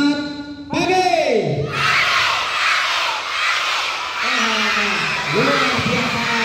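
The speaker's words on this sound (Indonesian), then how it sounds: "tepuk tangan mantap sekali ya dari semuanya" Audience at a sport-shooting outreach session in Tegal applauds in a broad, steady wash of clapping and cheering for several seconds, with a voice speaking over it before and after.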